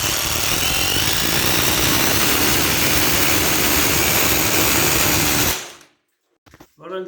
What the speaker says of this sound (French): là je peux percer avec une perceuse